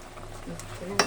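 Ginataang puso being stirred in a pot after saluyot leaves go in, with soft scraping and sloshing, a few faint utensil clinks and one sharper knock near the end.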